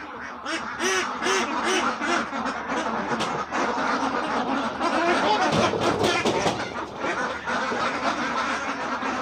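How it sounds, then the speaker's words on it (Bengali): Ducks quack repeatedly at a duck farm where laying ducks and ducklings are kept in partitioned pens, a dense chorus of nasal calls overlapping in irregular bursts, fairly close and steady throughout. "প্রথমে হাঁসগুলোকে আমরা বাইরে ছেড়ে দিব।"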